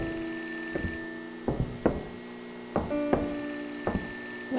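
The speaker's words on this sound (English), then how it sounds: "What phone is ringing?" A telephone rings in the horror video game Hanako set in an abandoned school, with repeated bell-like rings in uneven bursts, moderately close, and no voices over it.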